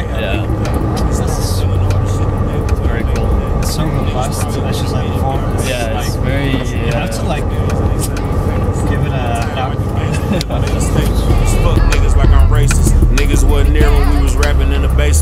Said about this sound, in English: And you can hear the engine in the back.